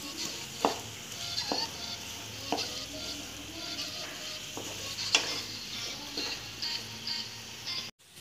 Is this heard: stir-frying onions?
yes